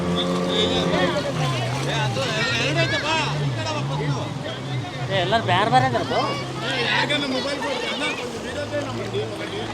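A motorboat tows a banana ride off a beach in Goa, its engine droning under constant loud chatter and crowd babble, with a whining tone that rises and falls as the boat moves.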